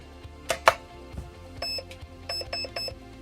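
An electronic Perun ETU unit in a Steyr AUG airsoft rifle gives a series of short, high, clean beeps while the fire mode changes, following a couple of sharper clicks near the start.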